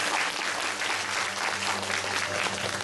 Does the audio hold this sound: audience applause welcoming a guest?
yes